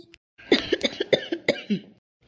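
A person coughs close up, a burst of several quick harsh coughs in rapid succession ending in a rougher throaty one, loud against silence.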